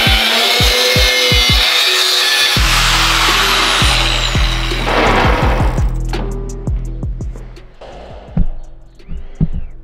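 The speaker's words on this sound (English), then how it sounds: "Probably gonna cut this in the middle and then cut maybe a quarter of an inch out of it" Power tool cutting a custom steel body mount for a Dentside Ford truck, a loud continuous grinding and cutting roar that breaks into a series of sharp knocks and clanks, then eases into scattered metallic handling noises.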